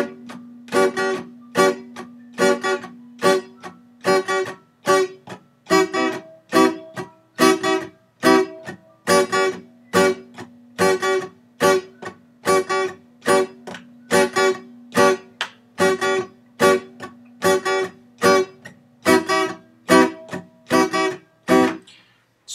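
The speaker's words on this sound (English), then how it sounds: "So what I'm doing is I'm playing the rhythm with my left hand while I'm playing with my right hand." An acoustic guitar plays reggae-style chord strums, each one cut short by the left hand lifting and pressing to mute the strings, giving a steady, evenly pulsing chop of about two dozen strokes with no talking.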